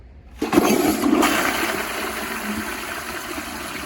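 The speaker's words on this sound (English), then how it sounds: "this is just gonna see how well it does cleaning the bowl and replacing it with clean water" An American Standard toilet flushes with a sudden loud gush after a quiet start, then a sustained rushing swirl of water draining and refilling the bowl, close up.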